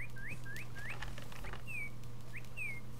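Chirpy, rising squeaks from ducks in the modded Minecraft game, repeating in a quick series and then spaced apart, fairly clear over a steady low hum.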